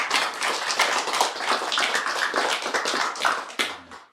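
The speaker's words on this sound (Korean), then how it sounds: "축하하는 의미로서 박수해 주시기 바랍니다" Church congregation clapping in celebration of new members during a Sunday worship service, a steady dense patter of hands that runs for several seconds and then stops abruptly.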